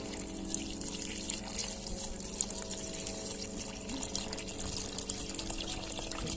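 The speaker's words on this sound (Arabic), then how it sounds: "ندير المية عليها عشان نطبخها في بعض" Water poured into a cooking pot in a tent kitchen, a soft, continuous trickling flow at moderate distance with faint background hum and no talking.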